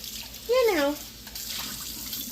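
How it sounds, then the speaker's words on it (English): Tap water runs as a pot is rinsed at a kitchen sink, a steady faint hiss of flowing water, with a woman's brief vocal sound rising over it early on. "just rinse this pot out real quick"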